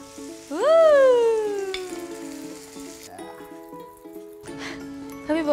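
Oil hits a hot wok and sizzles in a steady hiss that breaks off midway and then returns. A loud, sliding whine-like tone rises and falls over the start.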